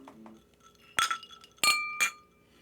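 Drinking glasses clink together in a toast, three bright ringing strikes with sustained tones, close and fairly loud against a quiet room with no talking.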